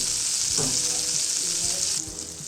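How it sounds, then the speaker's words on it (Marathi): Cumin seeds crackle and sizzle steadily in hot melted butter in a pan, a dense close frying hiss with small pops. "जिरं थोडंसं तडतडू द्यायचं"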